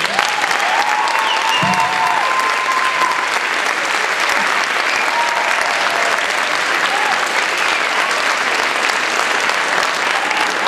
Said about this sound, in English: So we have a round of applause for everyone.